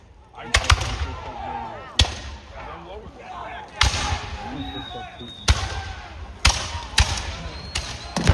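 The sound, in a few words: gunfire at Battle of Lexington reenactment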